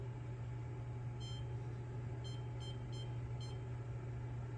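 Kitchen oven signalling it has reached 350 degrees: a single short electronic beep, then a quick series of four evenly spaced beeps, faint over a steady low hum of background noise.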